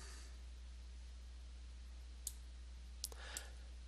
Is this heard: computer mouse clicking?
yes